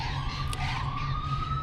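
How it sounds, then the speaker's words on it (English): An ambulance siren wails, rising steadily in pitch, loud and nearby, over the low rumble of a heavy vehicle engine. "Ambulance."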